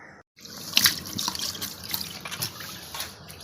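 Tap water runs into a steel kitchen sink while dishes are washed and the basin is scrubbed, a steady close splashing trickle with brief drips and clatters.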